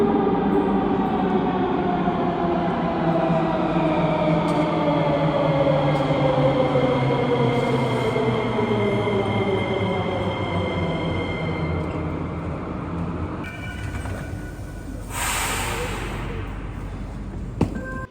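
A Sofia metro train runs steadily, its rumbling motor and wheel noise filling the car with rising and falling tones, followed by a louder rushing roar near the end.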